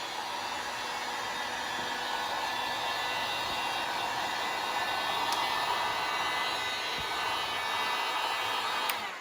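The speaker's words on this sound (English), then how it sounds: "Now I'm going to use my heat gun" A heat gun running on low heat to warm a vinyl headlight overlay on a Subaru WRX/STI, a constant close airy blowing hiss that holds steady throughout.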